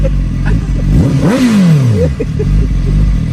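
A motorcycle engine revs up and then drops back, the pitch sweeping high and falling away close by, with steady engine rumble throughout.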